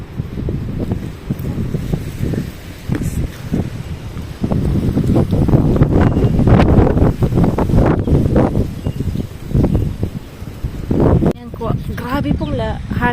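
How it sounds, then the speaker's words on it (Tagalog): Strong wind roars and buffets the microphone outdoors in a loud, sustained rush with surging gusts, while a person talks partly beneath it. "It's very windy."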